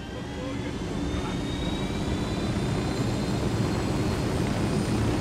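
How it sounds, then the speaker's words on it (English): Helicopter in Ghost Recon Wildlands, a steady whirring engine drone held at a constant level throughout, with faint talk underneath. "Helicopter."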